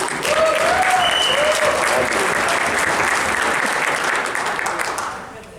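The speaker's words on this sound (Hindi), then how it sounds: "आपके लिए तालियां होनी चाहिए यार" Loud crowd applause in a hall full of people, a dense continuous clatter of many hands that holds strong for several seconds before fading out, with a few voices briefly calling out over it.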